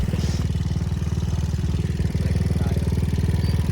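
A motorcycle with a quieter exhaust rather than an open pipe runs at a close, steady idle, its even low pulsing throbbing continuously.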